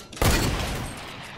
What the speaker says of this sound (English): I am currently being shot at